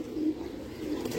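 Low, continuous cooing from pigeons kept by a fancier, including green-ringed and chil varieties, steady and fairly close with no talk over it.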